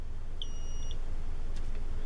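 A cheap smoke detector sounds one short, low-pitched test beep against a steady background hiss.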